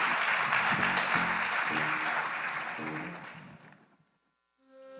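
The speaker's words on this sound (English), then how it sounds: "Big round of applause for DeMarco Murray." Audience at a high school sports awards ceremony applauding for DeMarco Murray, a broad wash of clapping that fades away toward the end before a brief musical tone enters.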